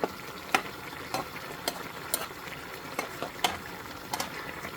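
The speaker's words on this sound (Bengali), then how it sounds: "খুব ভালোভাবে বলক চলে এসেছে এবার একটু নেড়ে চেড়ে দিই" Fish curry (a dry chorchori) bubbling in a pot, with a steady soft simmering hiss broken by sharp stirring clacks and scrapes spaced about every half second to second, close and fairly quiet.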